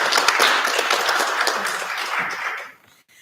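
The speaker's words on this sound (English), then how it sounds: "Just another round of applause for Harry" Applause from a community council meeting audience, a dense broadband patter of many hands that holds steady for about two and a half seconds, then quickly fades out to near silence.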